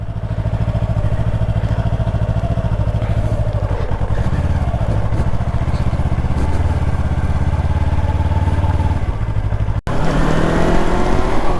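Yamaha R3 motorcycle engine droning steadily while ridden, a loud continuous hum with some wind and clatter, briefly cutting off near the end before resuming.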